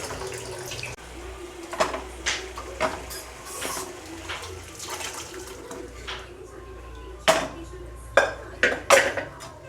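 Cooked, salted rajma goes into a pot with a few soft clinks of utensils, then a run of sharper metallic clanks near the end over a quiet background hiss.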